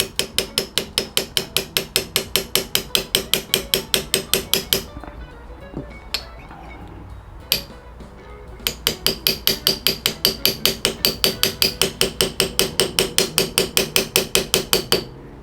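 Rapid, steady light hammer taps on a Japanese hand plane (kanna) ring out in a fast metallic rhythm, pause briefly with a few scattered knocks, then resume at the same quick pace.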